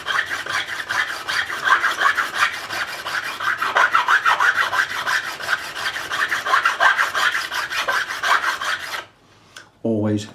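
A file rasps in quick, even back-and-forth strokes over a guitar fret crown during a Made in Japan Squier Stratocaster re-fret, close and continuous before stopping near the end with a brief knock.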